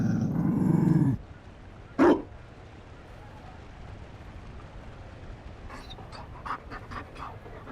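A Mabari war dog in Dragon Age Inquisition gives a loud burst of panting with a low growl, then a short sharp huff, followed by faint scattered clicks and sniffs.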